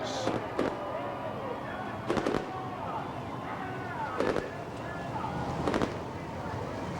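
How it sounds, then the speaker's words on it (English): Fireworks at a dirt modified race track crackle and pop in four distinct bursts spaced a couple of seconds apart over a steady outdoor rumble, with faint voices in the background. "Nice fireworks display"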